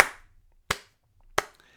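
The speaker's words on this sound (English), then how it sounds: "but I'm clapping" Three sharp hand claps, spaced evenly about two-thirds of a second apart, each a crisp close slap with a short decay into near silence.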